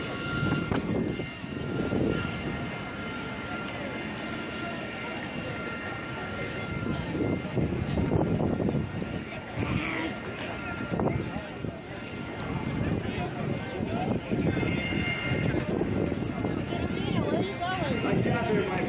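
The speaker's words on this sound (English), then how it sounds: "That plane vibrated my head." A loud, droning airplane roars overhead at an air show for a long stretch, its engine noise swelling and fading while people talk nearby.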